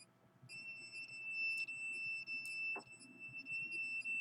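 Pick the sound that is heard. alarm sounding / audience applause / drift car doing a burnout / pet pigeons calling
alarm sounding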